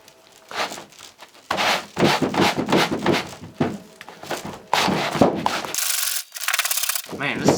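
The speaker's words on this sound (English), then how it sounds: "All right, it's been sitting, so let's start scrubbing" Scrubbing of a dirty car hood with a cleaning product, heard as close, rough bursts of rubbing in uneven strokes, with a few knocks and no talk.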